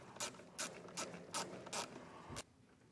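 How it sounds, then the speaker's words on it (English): A ratchet tightening a nut back onto a vehicle wiring connector during a Curt T-connector trailer harness install on a 2022 Ford Transit, giving five evenly spaced bursts of clicking followed by a final sharp click, then quiet. "We'll take our nut and put it back on."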